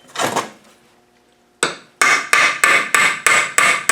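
A hammer striking a punch against a stuck part while stripping a Td5 LT230 transfer gearbox: one dull knock, a pause, then a run of six sharp metallic blows in a steady rhythm, close and loud.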